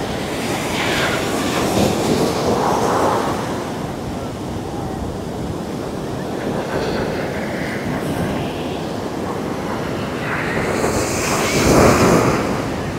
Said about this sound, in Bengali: সমুদ্রের এই যে গর্জনটা, এই যে আওয়াজটা